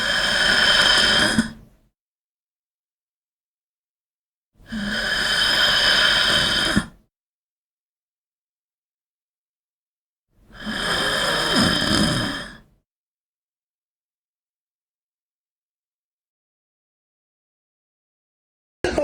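Three separate drawn-out breathy exhalations from an Ultrakill mannequin enemy, each about two seconds long, evenly spaced with long silent gaps between them, harsh and airy with a sighing, slightly squealing rasp.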